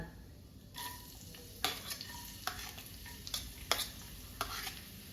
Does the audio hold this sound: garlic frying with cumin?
yes